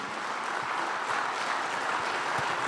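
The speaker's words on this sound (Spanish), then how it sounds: "demos un fuerte aplauso al Señor, porque eso sí que merece aplauso." Church congregation clapping in steady applause during a Spanish-language worship service, a dense, continuous patter of many hands filling the room without any talk.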